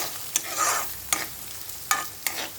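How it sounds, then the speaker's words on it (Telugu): Chopped carrots stirred and fried in a pan, with a steady sizzle broken by four sharp, close scrapes of a spoon against the pan bottom. "బాగా ఇలా వేయించుకోవాలన్నమాట."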